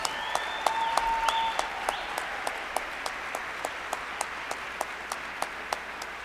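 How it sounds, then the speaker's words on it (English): Steady audience applause for children at an MLK tribute celebration, a sustained wash of clapping from a crowd with no talking. "Let's give all of the children a round of applause."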